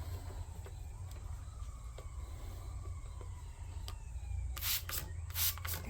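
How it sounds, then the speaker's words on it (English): Car wax spray misting onto a car hood: two short, hissing spray bursts close together near the end, over a quiet, steady background hum. "two more sprays."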